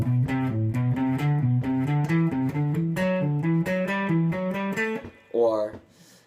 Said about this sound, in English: you can change the underlying rhythm to triplets, and you wind up with a polyrhythmic sound